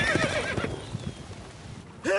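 Roach, the horse in The Witcher 3, lets out a loud, close whinny with hoof clip-clops, and a voice briefly cuts in at the end.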